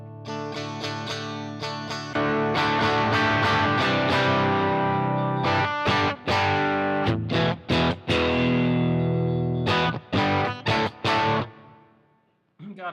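Electric guitar through a Gristle King distortion pedal with a touch of reverb: loud, sustained distorted chords give way to choppy staccato stabs and short pauses, then the sound fades out near the end.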